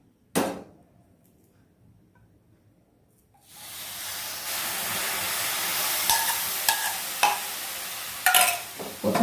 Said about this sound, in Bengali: এখন এই অবস্থায় দিয়ে দেবো এর মধ্যে দুধটা যেটা আমি আগে গরম করে রেখেছি